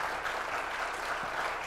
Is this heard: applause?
yes